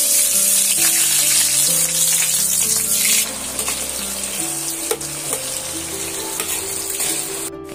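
Two large chopped onions dropped into hot oil with cumin in a home kitchen, a loud steady frying sizzle that carries through the whole stretch and eases slightly partway in.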